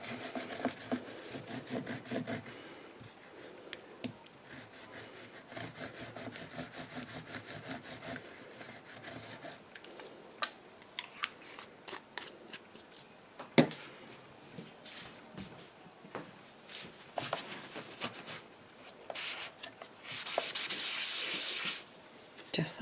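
Ink being wiped and rubbed off a Spellbinders BetterPress letterpress plate, a steady scrubbing friction sound in uneven strokes, close and fairly quiet, with no talking.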